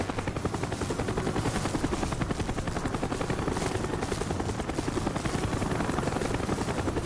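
A helicopter in the Call of Duty Black Ops mission Redemption roars close and constant, its rotor thumping in a dense, steady drone throughout with no voices.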